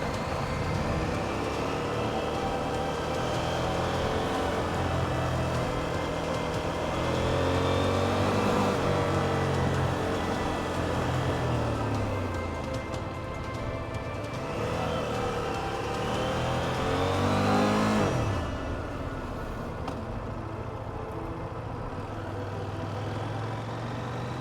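A CFMoto IBEX 800-S motorcycle rides through traffic, its engine droning steadily with rising and falling pitch through shifts, mixed with wind and surrounding vehicle noise, no talk.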